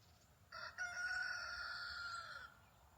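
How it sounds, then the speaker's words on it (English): A single rooster crows once, a long drawn-out call at moderate distance, with quiet surroundings before and after. "The rooster's crowing, the birds are chirping."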